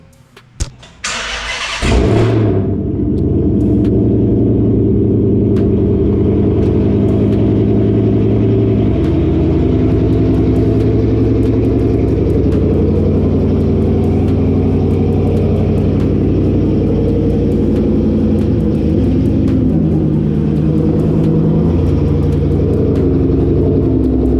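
Dodge Challenger V8 engine cranking to life and settling into a steady, loud rumble nearby, idling and creeping as the car is moved, with a brief sharp starter burst at the start.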